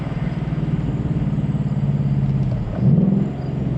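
A Ford Mustang Dark Horse drones steadily from inside the cabin while driving, with a brief, sharper rev blip near the end as it downshifts before settling back to a steady hum.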